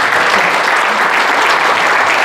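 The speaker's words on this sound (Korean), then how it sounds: "한 번 더 박수를 쳐주셔야 될 것 같습니다" A crowd at an army reserve officers' forum general meeting and chairman inauguration ceremony breaks into loud, dense, sustained applause that fills the hall without pause.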